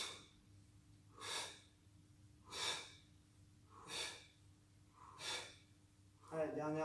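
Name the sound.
forceful exhaling during core twist exercise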